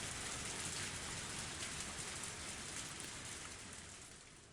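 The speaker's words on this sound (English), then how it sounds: "With the downpour soaking me through, and the shovel in one hand, and it raining on you all over again." Steady, heavy rain pours down in the visual novel game Higurashi, a dense, unbroken hiss that holds for several seconds and eases slightly at the end, with no voices.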